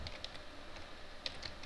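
Soft, quick keystrokes tap on a computer keyboard in a short, uneven run, close but quiet with a faint background hiss.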